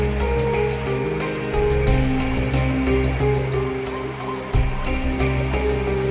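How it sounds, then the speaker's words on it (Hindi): A river flows steadily and close by, its broad rushing wash of water holding a constant level with no voices over it. "एक नदी थी जिसे पार करना मुश्किल था।"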